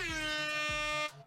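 An air horn sound effect delivers two loud, brassy blasts in quick succession, each with a punchy attack, then stops sharply with a brief tail.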